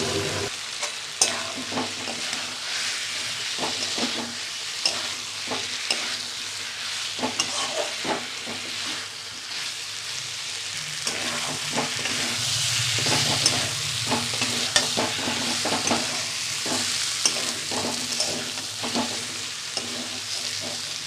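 Boiled taro root and potatoes being stir-fried in oil in a pan, with a steady sizzle and repeated scraping stirs continuing throughout, close and loud, no talking.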